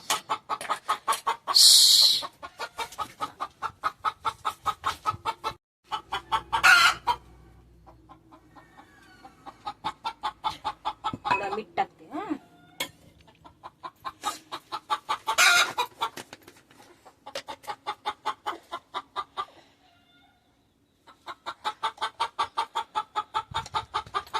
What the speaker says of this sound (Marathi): इथे एक कोंबडी आहे ती ओरडते नुसती सांगते अंड घातलं मी